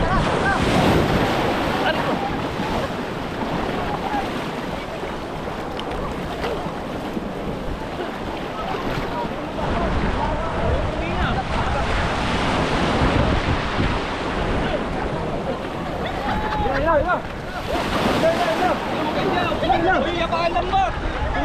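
Ocean waves surging around a boat at sea during net fishing, a steady loud wash of surf and wind noise with shouting crew voices mixed in throughout.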